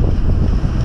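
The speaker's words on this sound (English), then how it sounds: "We're a bit windy up here." Strong wind buffeting the microphone on a hilltop above a creek, a loud rumbling, gusty roar that fills the brief moment.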